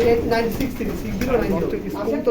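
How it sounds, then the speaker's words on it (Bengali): Belgian and Dutch racing pigeons at a loft coo in low, throaty, rolling bursts close by, mixed in with someone talking. "প্রত্যেকটা কবুতর বেলজিয়াম নেদারল্যান্ডের"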